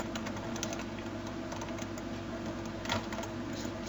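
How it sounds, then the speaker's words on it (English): Soft computer keyboard typing while HTML code is being entered, scattered light keystrokes sitting faintly over a steady background hiss, with one slightly louder cluster near the end and no voices. "I'm basically typing it in"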